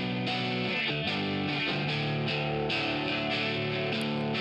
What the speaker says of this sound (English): the doubler, that's kind of like the stereo kind of effect. Widens it out a little bit.